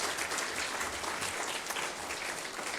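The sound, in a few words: round of applause for award finalists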